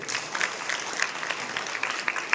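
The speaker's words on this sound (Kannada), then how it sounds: "ತಾವೆಲ್ಲರೂ ಜೋರಾಗಿ ಚಪ್ಪಾಳೆ ತಟ್ಟಿ" An audience at a gathering claps loudly and steadily, a dense wash of many hands with no voices over it.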